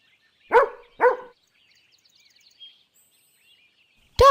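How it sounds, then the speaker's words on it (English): A dog barks twice in quick succession, close and clear, followed by a faint quiet stretch and the start of a new sound at the end. "Dog."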